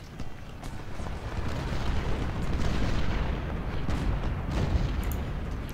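Cannon artillery fire in the Ultimate General: Civil War video game at the First Battle of Bull Run, a dense continuous rumble of booming shots rolling over each other without pause.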